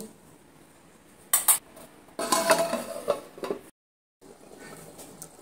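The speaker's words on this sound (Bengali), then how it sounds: "এবার আমি ঢাকাটা তুলে নিচ্ছি। ঢাকাটা তুলে নিলাম।" Metal pot lid lifted off a simmering pot of egg omelette curry: a few sharp clinks and a scraping rattle of metal, then brief silence and faint kitchen background, no talk.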